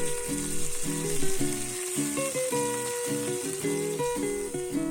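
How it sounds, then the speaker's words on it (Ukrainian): Smoked pork belly sizzles in a hot frying pan over a gas burner, a steady hiss of frying running beneath prominent background music. "Обожнює це шкварчання."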